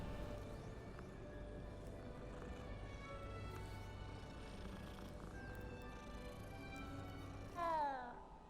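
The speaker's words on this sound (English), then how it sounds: "The cat meow is pretty atrocious." A cat in the video game Hogwarts Legacy lets out a single short, loud, synthetic-sounding meow near the end, over continuous game ambience and background music.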